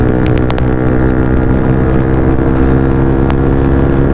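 A motorcycle engine held at full RPM during a group Republic Day ride, a loud, continuous, close-up drone with a steady roar and no letup.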